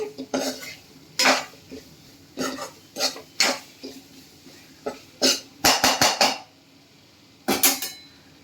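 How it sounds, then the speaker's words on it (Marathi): Potatoes being stirred and coated in a hot pan, a metal spoon scraping and clinking against the pan in irregular bursts, some clusters of quick knocks, close and clear with quiet gaps between. "आपण आता हे बटाटे ह्याच्यामध्ये टाकणार. बटाटे पण छान त्याच्यामध्ये घोळवून घ्यायचे."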